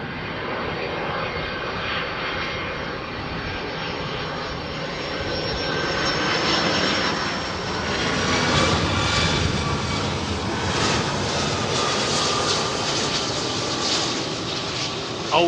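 A jet airliner departs London Heathrow Airport, its engines roaring loud and continuous, building as the aircraft climbs out and staying strong to the end, with no voices over it.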